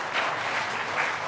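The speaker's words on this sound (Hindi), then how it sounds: "इनके लिए तालियाँ" Studio audience applause at an Iftar Ramazan transmission, a steady wash of clapping with no speech, moderately loud and sustained throughout.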